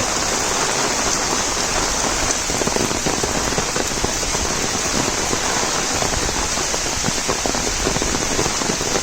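Heavy monsoon rain pounding down in Konkan farmland, a loud steady roar thick with close, crackling drops striking surfaces throughout, no voices.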